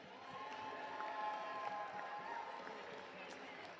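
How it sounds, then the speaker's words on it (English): An audience applauding and cheering at a FIRST Tech Challenge robotics competition in West Lafayette, a steady wash of clapping and crowd noise from a large hall, moderately distant, with voices mixed in. "Let's give one round of applause to Alliance number 5"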